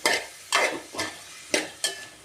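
Onions and green chillies with a little salt being stirred and fried in a pan for a chicken curry, five sharp scraping stirs over a soft sizzle, close and alone.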